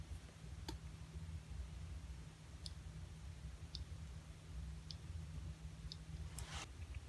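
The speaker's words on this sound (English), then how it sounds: "You should hear some clicking sound." A homemade crystal earbud with a ceramic element clicks as multimeter probes touch it, giving a handful of faint, sharp, irregularly spaced ticks over a low steady hum.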